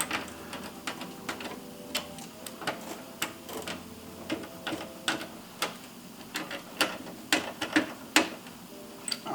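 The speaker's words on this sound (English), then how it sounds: "We'll tighten these 4 screws in here so that we make sure that that SSD is nice and secured in there" Screws being driven in to secure an SSD inside a PC build, a run of small sharp ticks and clicks in an irregular rhythm, close and fairly quiet, with no talk.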